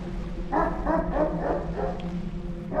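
A dog in a forest horror video game gives a quick run of four or five soft, muffled barks at middle distance, set against a low steady ambient drone.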